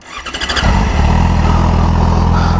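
A motorcycle engine with a modified, drilled exhaust cranks and fires, then settles into a loud, steady, deep rumbling idle with a throaty exhaust note, close by.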